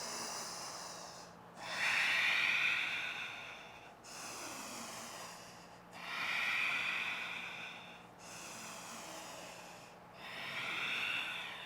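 Deep breaths during a strong, sweaty yoga class: six long, slow breath sounds, alternating airy inhales and hissing exhales, close and steady with no talking.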